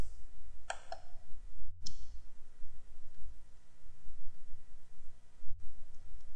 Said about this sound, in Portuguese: Então vamos clicar no botão Itens.